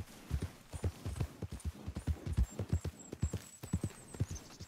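Horse hooves clip-clop at a steady walking rhythm on a road in the video game Red Dead Redemption 2, close and clear, with a faint high tone near the end and no talking.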